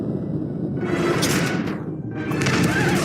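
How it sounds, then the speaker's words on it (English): An explosion in the Call of Duty video game, a loud muffled blast with a rising whoosh, a brief dip, then a second roaring burst over steady game rumble, with no talk. "Explosion incoming!"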